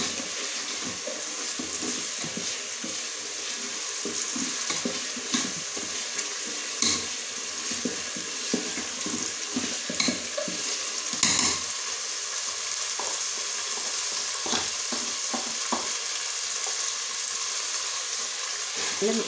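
Ingredients for a spinach stew fry steadily in a pan, a continuous close crackling sizzle with scattered pops and occasional stirring scrapes throughout.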